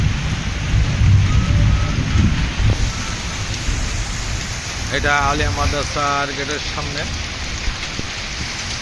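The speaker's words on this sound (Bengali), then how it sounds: "দেখুন খুব মোটা মোটা ফুপলা ফুপলা হয়ে পড়ছে বৃষ্টি" Heavy rain pours down at night in front of a madrasa gate, a dense loud hiss with low rumbling, while someone speaks briefly over the downpour partway through.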